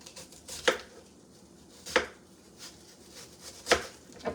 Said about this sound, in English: And I need to cut up my onion really quick.